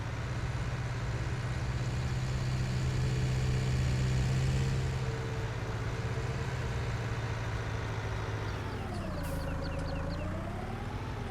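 A tractor engine idles in the farming video game Farming Simulator 19, a continuous low drone with steady tone that wavers and rises in pitch near the end, with no voices.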